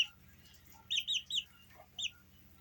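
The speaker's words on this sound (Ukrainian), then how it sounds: "Де курочка, де петушок." Young hens and a rooster give a few short, high chirps in quick succession, then one more after a pause, close by against a quiet, low background hum.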